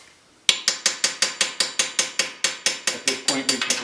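A ratchet wrench works a nut loose on a Chevy HHR front strut, giving a quick, even run of sharp mechanical clicks after a brief quiet start, close and fairly loud with no talk.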